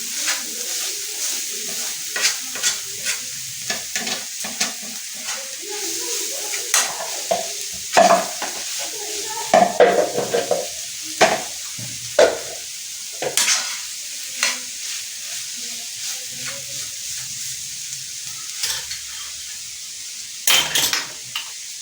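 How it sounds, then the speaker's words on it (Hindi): Minced meat keema sputters on a hot tawa while a spatula scrapes and clanks against the metal in irregular bursts, a soft sizzle underneath, close by with no talking. "अब 5 से 7 मिनट से और भुनेंगे"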